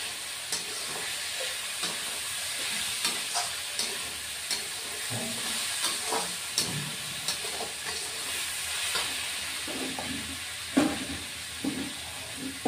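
Malabar spinach frying in a pan, a steady sizzle and hiss with occasional stirring scrapes and taps throughout.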